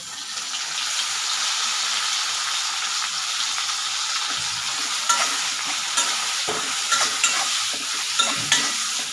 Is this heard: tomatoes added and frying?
yes